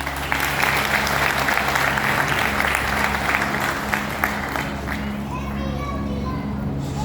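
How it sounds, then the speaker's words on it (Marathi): An audience at a Hindu gathering bursts into loud, sustained clapping for the grandmothers present. The dense applause runs for several seconds, then thins and fades near the end, with children's voices faintly mixed in. "या मातृशक्ती, या आजींसाठी एक जोरदार टाळी झाली पाहिजे."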